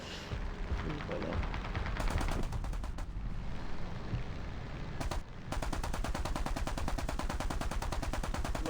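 Rapid automatic gunfire in a video game, loud and close, firing in dense continuous bursts with a brief break around the middle before the shooting resumes steadily.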